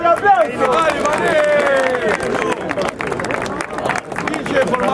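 A crowd cheers and claps for a rapper at a rap battle event, the applause mixed with loud shouting and voices throughout.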